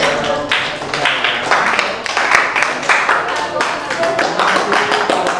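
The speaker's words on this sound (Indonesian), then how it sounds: "kita kasih tepuk tangan dulu" Students clapping in a biology classroom after a group presentation on gymnosperms, a lively burst of many hands with irregular sharp claps and some talking mixed in, close and loud.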